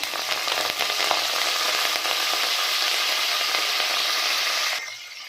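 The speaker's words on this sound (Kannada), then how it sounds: "ಆಯಿಲ್ ಬಿಸಿ ಆದಮೇಲೆ ಸ್ವಲ್ಪ ಸಾಸಿವೆ ಹಾಕ್ಕೊಳ್ಳೋಣ." Mustard seeds sizzle and crackle in hot oil in a pan for a ridge gourd curry, a loud dense frying hiss that runs steadily and then drops off sharply near the end.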